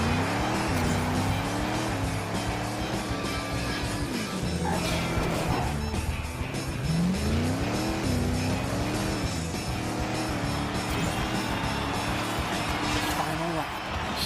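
Lightning McQueen race car in a racing video game, its engine droning steadily and loudly throughout with rising and falling revs, alongside game sound effects and occasional collisions.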